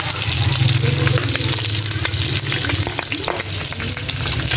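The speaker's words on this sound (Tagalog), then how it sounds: "Tapos rin naman karne, ginisa na natin sa sarili niyang mantik" Meat sautéing in its own rendered fat in a pan for pancit, cooked in a hut kitchen, giving a dense, loud, continuous sizzle and crackle with occasional scraping stirs and no voices.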